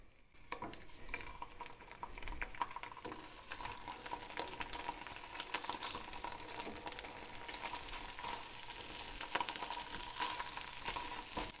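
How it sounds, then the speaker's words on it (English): Sliced halloumi cheese frying in a pan, a steady close crackling sizzle with scattered pops and occasional stirring or utensil clinks, continuous for the whole stretch with no talking. "And now we're going to place the sliced halloumi."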